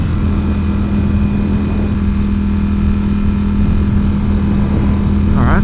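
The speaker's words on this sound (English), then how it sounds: "It's quite loud for a stock exhaust." Ducati Panigale V4S sport bike on its stock exhaust, a loud, steady engine drone close by with a constant low hum that holds throughout and rises slightly at the end.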